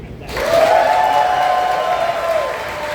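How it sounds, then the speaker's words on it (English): A crowd claps to vote in favour of YouTube, giving a broad, sustained wash of applause that swells quickly after a brief quiet start. Some cheering or a held vocal tone carries through it. "Clap for YouTube."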